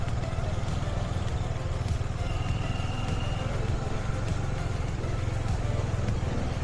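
Motorcycle engine running steadily and loud up close while riding through local lanes of Srinagar, a continuous drone with no pauses.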